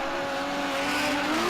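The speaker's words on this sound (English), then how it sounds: "You just hear those revs perfectly controlled" A drift car at a motorsport event holds controlled engine revs, the tone rising steadily with a faint tire-squeal edge, heard from a distance under a broad wash of noise.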